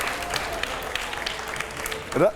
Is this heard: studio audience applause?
yes